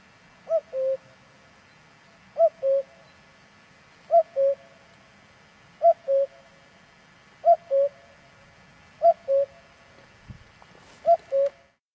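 Cuckoo-like two-note descending third calls in the middle register from Ravel's Mother Goose suite, seven evenly spaced pairs repeating about every 1.6 seconds over a quiet sustained background.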